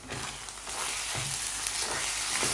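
Minced lamb and potato curry is stirred in a pan, giving a quiet sizzle with a few soft scrapes and thuds of the spoon spaced through the clip, and no one talking.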